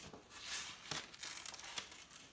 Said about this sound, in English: So I'm going to take my scissors and cut that out.